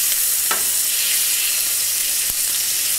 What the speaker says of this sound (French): Nous allons retourner cette petite caille